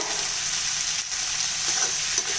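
Whole tender brinjals sautéing in oil in a pan for a spiced brinjal masala fry, with a continuous moderate sizzle and a few soft stirring scrapes, close and without talk.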